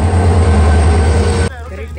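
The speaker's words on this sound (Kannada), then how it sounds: "ಟ್ರೈನ್ ಬಂತು." A train pulls into a station on a trip to Mantralaya, with a loud, close, continuous rumble that drops off abruptly partway through.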